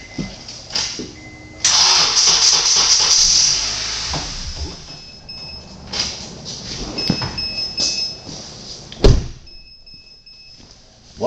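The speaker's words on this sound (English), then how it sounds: "we were able to start it with the jump box" A car with a nearly dead battery is started using a jump box: a cranking engine catches, then runs unevenly, with clicks and door-like thumps and a sharp knock near the end.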